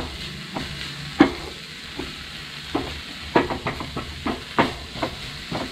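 Egg mixture for an Afghani omelette stirred in a bowl, with a steady run of scraping, clinking strokes in an uneven rhythm, close and fairly loud over a faint hiss.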